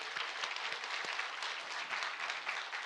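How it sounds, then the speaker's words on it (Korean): A church congregation at an early-morning service gives a steady round of applause, a soft and evenly sustained wash of many hands clapping, heard from some distance. "하나님께 감사의 박수 올리겠습니다."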